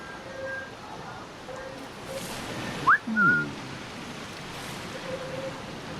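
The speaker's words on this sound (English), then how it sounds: "when the targets get highlighted, you can whistle them" A short rising whistle sounds in the video game Assassin's Creed IV: Black Flag to draw a target's attention. It is a brief two-part tone over soft rain-like ambience.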